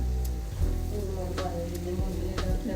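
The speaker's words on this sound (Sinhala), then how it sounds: "ලෑස්ති වෙනවා කරවල තෙල් දාන්න." Dried fish sizzles and fries in hot oil in a pan, a loud continuous crackle with a few stirring clinks and scrapes, close up and without talk.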